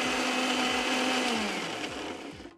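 A blender grinds a cilantro and garlic mixture into a paste, a loud, steady motor whir with choppy pulses as the blades churn. It winds down at the end, with no talk.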